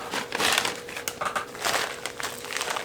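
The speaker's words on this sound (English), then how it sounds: "Random plastic bags with half-open seed packets." Steady crinkling and rustling of plastic bags holding half-open paper seed packets, close by, with bursts of crackling handling noise throughout and no voices.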